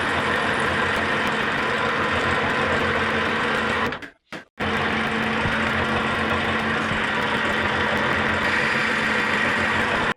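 A metal lathe bores out a vintage bandsaw motor pulley, opening a 16 mm bore toward 19 mm. A loud, steady mechanical whir and rumble runs close by, broken by a brief half-second drop to near silence.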